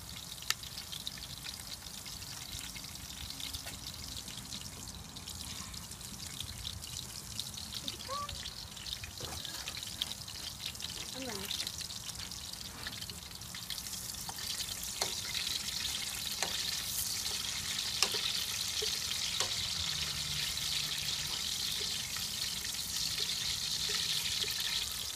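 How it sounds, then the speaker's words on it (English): Blended puree poured into a hot pot and frying outdoors for Malaysian-style lobster masak lemak cili api, a steady crackling sizzle with occasional stirring clinks and scrapes, close and continuous. "the puree and then we're going to pour it in here."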